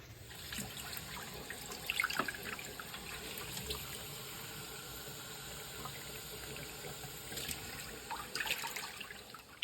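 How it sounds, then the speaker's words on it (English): Tap water runs steadily into a cooking pot in a home kitchen with a constant hiss and splash, broken by a few brief clinks, heard close with no talking. "Let me get some new water,"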